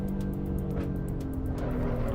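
A race car in the Assetto Corsa EVO racing game weaves to warm its tyres, with a steady droning engine and rhythmic bursts of tyre noise, no voices.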